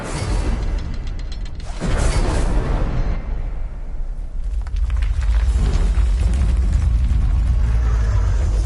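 A fire spell, Incendio, is cast in the video game Hogwarts Legacy, erupting in a loud fiery whoosh and roaring burst that swells, dips briefly, then surges again into a sustained rumbling blaze.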